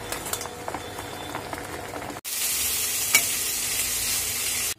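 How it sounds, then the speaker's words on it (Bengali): Boiled figs fry in oil in a frying pan, a constant close sizzle that jumps suddenly louder and hissier partway through, as if oil or figs hit the hot pan. "ফ্রাই প্যানে তেল দিচ্ছি, ডুমুরগুলো এখন ভালো করে ভেজে নেব।"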